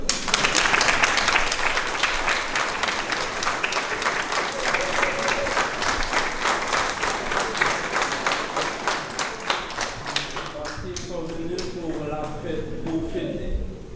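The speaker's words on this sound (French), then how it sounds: "Je vous demande de les applaudir." A church congregation applauding children at their first communion, with loud, dense clapping that thins out toward the end as voices begin to emerge.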